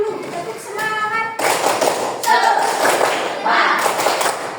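A school class in Indonesia performing a rhythmic 'tepuk semangat' clapping chant, with bursts of group clapping and chanted voices in quick patterned succession, fairly close and lively.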